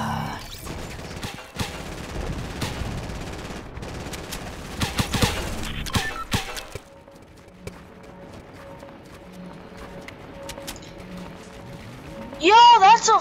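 Gunfire in a team rumble shooter video game, bursts of rapid shots and scattered single reports mixed with game effects, loud at first and thinning out later, with talking over parts of it.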